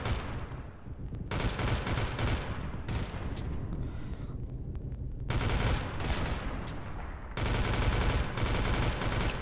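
Rapid automatic gunfire in a Roblox shooter, dense bursts lasting a few seconds each with short gaps between, loud and close, with no talking.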